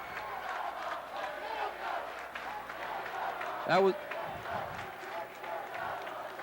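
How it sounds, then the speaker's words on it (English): Crowd buzz fills a New Jersey high school hockey arena before the opening face-off of the 1990 state championship, Brick versus Montclair, a steady din of voices with one brief louder shout near the middle. "as you can hear, the crowd is buzzing"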